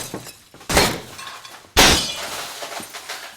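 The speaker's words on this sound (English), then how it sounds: "there is this huge noise of shattering glass" Glass shatters in two loud, sudden crashes about a second apart, windows being smashed in a scene from the film Punch-Drunk Love, each burst of breaking glass trailing off into tinkling debris.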